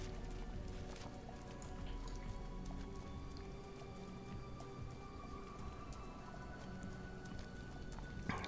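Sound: horse hooves while riding in Diablo 3 video game

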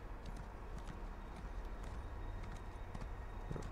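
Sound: horse hooves clip-clop in video game Elder Scrolls Online

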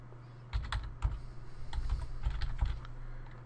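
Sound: typing a bat file name on a computer keyboard

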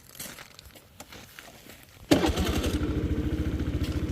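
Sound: Honda Today AF61 scooter engine starting and running

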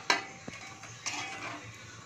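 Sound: spice masala being fried and stirred in a pan

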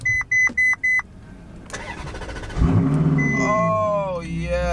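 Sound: Ferrari engine starting up

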